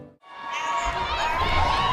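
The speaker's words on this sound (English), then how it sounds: "As the crowd cheered and their mother looked on" Crowd cheering and clapping at a high school graduation ceremony, a broad continuous roar that swells in after a brief quiet moment and stays loud and sustained, with shouting voices mixed in.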